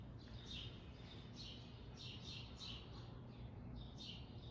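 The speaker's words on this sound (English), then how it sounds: "The birds are singing" Faint birds chirp and tweet outdoors in short scattered calls over a steady low rumble of background noise.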